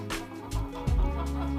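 Chickens cluck and murmur nearby in a short burst of overlapping low calls, with faint background noise.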